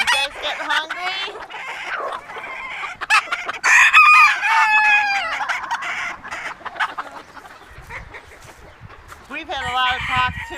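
Chickens at feeding time clucking and crowing close by, a rooster's crow rising over busy overlapping clucks and squawks, with a person speaking among them.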